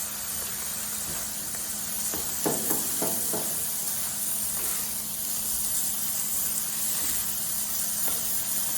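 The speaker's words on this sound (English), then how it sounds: "So as you can see, the sausage is starting to brown." Sausage browning on a griddle with seasoning mixed in, giving a steady close sizzling hiss throughout with a few brief louder crackles midway.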